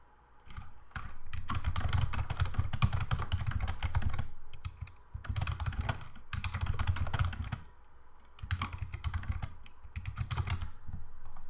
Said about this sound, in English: I type a clear description in there